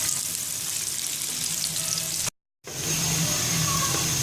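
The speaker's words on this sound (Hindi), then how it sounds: "प्याज को मैंने ऑलरेडी फ्राई करने के लिए रख दिया है। इसको मैं गोल्डन ब्राउन कर लूँगी।" Sliced onions frying in a cup of oil until golden brown, a continuous close crackling sizzle broken by one short silent gap before the bubbling resumes.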